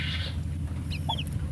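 A hen clucks close by with her newly hatched, day-old chicks, with short high peeps over a steady low hum.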